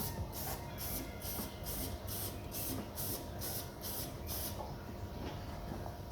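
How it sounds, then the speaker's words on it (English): Lanagard rust protection sprayed from an aerosol into the body ends of a Land Rover Defender, a run of about ten rhythmic short hissing bursts over a low background rumble, close and fairly quiet. "all I'm going to do is just blast some Lanagard in the ends just to keep them from rusting from inside out."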